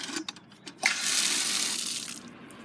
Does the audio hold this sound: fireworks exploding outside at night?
no